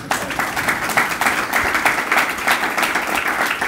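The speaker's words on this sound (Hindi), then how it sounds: "ताली बजाओ ना।" An audience at a spiritual discourse claps steadily for a few seconds, a dense, even patter of many hands with no voices over it.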